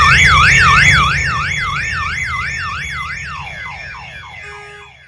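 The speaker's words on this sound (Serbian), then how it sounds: "alarmi na kolima su se palili kada šutnete u gumu" A parked car's alarm, set off by a kick to a tire, wails in a loud rising-and-falling electronic warble, then fades and breaks into weaker chirping sweeps near the end. No voices are heard.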